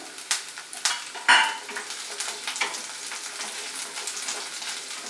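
Chopped onion with ginger and garlic fries in a pan for egg Manchurian, a steady sizzle opened by a few sharp utensil clacks against the pan, then quieter scraping stirs.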